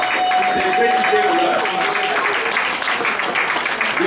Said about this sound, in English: can we give a cheer to all our guests that have come from far away to celebrate this day